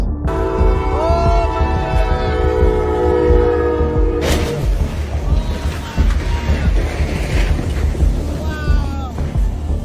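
A loud train horn blares for about four seconds, then the heavy rumble and clatter of rail cars rolling past continues close by, at a crossing where a train strikes a car hauler.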